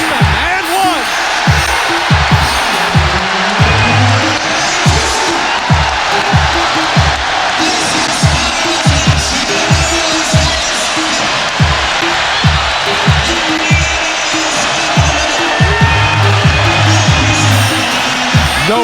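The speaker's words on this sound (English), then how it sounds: "The crowd, unbelievable." A packed basketball arena crowd, standing during a 1999 NBA playoff game between the Knicks and Pacers, roars without a break. A commentator talks over it, and sneakers squeak and the ball bounces beneath the noise.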